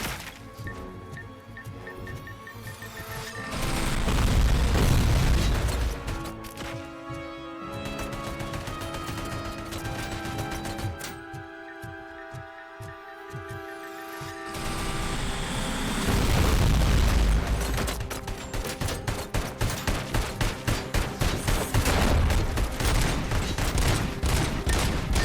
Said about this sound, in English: he's just absolutely ravaging me with bullets and it's doing nothing.